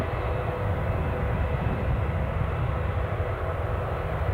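A KLM airliner taxiing fast at Newcastle International Airport gives a steady, loud jet engine roar with a broad rumble that holds evenly throughout, with no voices.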